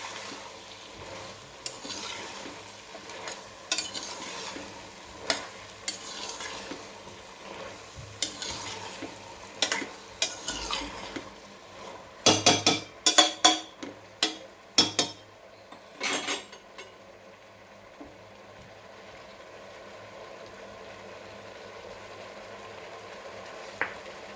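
Tomato stirred into pav bhaji vegetables in a pan, with repeated scraping and clinking of a spoon against the metal over a soft sizzle, the strokes quickening into a busy cluster midway before settling.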